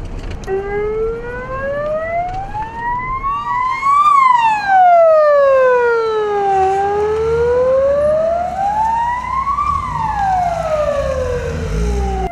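Ambulance siren wailing from a vehicle driving fast through city streets in Ivanovo, the tone sweeping slowly up and down in long rising and falling glides, loud and close over road and engine noise.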